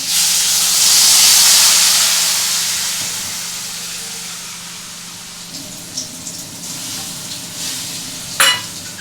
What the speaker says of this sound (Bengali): এবার আমি এটাতে দিয়ে দেবো জল